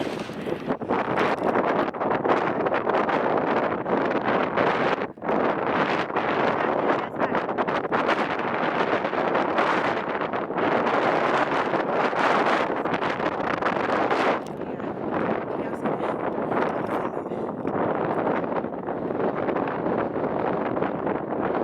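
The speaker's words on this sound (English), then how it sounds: "So sorry about the wind." Loud, continuous wind buffeting the microphone on a walk at Makapu'u Point, Hawaii, a roaring rumble with gusty surges that never lets up.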